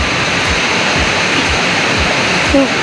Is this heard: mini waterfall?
yes